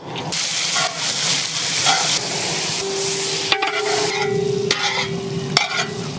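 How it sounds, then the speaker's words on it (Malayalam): Sliced onions hit hot coconut oil with curry leaves in an uruli pan, giving a loud continuous sizzle and hiss with stirring scrapes, plus a couple of sharp metallic taps near the end, heard close and without speech. "ഉരുളിയിലേക്ക് വെളിച്ചെണ്ണ വെച്ച് കൊടുക്കാട്ടാ നമ്മുടെ വീട്ടിൽ തന്നെ ഉണ്ടായ നല്ല അടിപൊളി വേപ്പിലയാണേ ഇനി നമ്മൾ സവാള ഇട്ട് കൊടുക്കാം"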